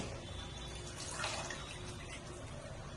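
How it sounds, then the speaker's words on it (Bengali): Tap water runs steadily over a cabbage being washed before blanching for cabbage pakoras, a continuous broadband splash with a brief louder burst midway and no talk. "বাঁধাকপি পকোড়ার জন্য আমি আগে বাঁধাকপিটা ভালো করে ধুয়ে নিয়ে"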